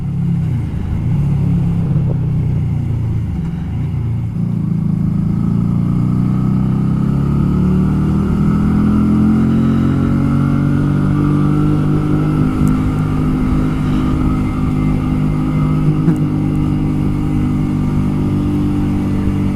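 A Honda Shadow 125 motorcycle ridden on a sunny country outing, its engine droning steadily and loud up close, with rising and falling pitch through gear changes and wind noise, no talking.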